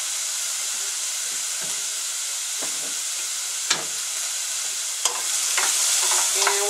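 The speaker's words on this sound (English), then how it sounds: "we're going to saute this, I don't know, about maybe 3 to 5 minutes, just to get everything softened up" Garlic sautéing in a pan: a steady bright sizzle with occasional scrapes and taps of a utensil stirring, close and alone without speech.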